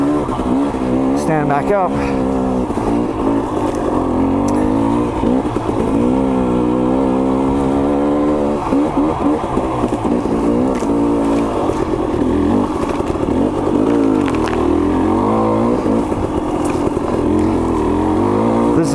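Dirt bike engine on a tight trail, loud and close throughout, revving up and down as it bounces between first and second gear, with a rider talking over the engine.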